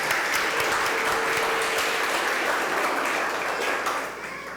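A church congregation at a Sunday service claps together in a dense, steady burst of applause that fills the room, holding loud throughout before tapering slightly at the end.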